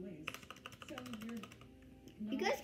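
Typing on an RK61 mechanical keyboard gives a steady run of quick key clicks. The clicks sit under a voice talking close by and are fairly soft.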